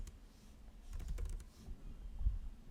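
Keys clatter on a computer keyboard as someone types a curl command, a quick soft burst of taps followed by a few scattered strokes, close and fairly quiet.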